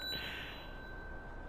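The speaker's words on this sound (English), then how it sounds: "make sure to ring that bell" A single bell ding sound effect strikes once and rings out with a steady, faint metallic tone that sustains to the end.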